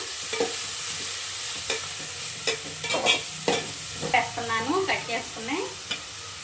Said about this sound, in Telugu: మసాలా అయితే వేస్తున్నాను ఆయిల్లో ఫ్రై చేసుకున్నాం